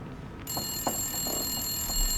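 An electronic telephone rings in the video game The Long Dark, a steady high-pitched tone that starts after a short gap and holds alone, with a few soft thuds beneath it.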